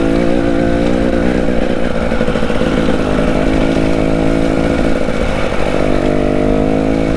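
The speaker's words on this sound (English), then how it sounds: "bike will just plod its way up" An off-road motorcycle engine labours steadily up an overgrown green lane at low speed, a loud, continuous droning rumble that holds throughout with slight shifts in pitch.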